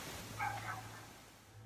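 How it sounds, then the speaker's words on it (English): A dog barking from a neighbouring house at night, a brief distant yip-like bark over a steady low background hum. "dogs barking ominously from the next house"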